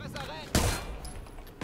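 A short burst of gunfire in the video game Watch Dogs 2, a sharp crack followed by rattling shots, with someone talking over it.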